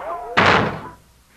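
A single heavy knock or thud on a ship's door comes in loud and close after a man's speech, then rings briefly into quiet.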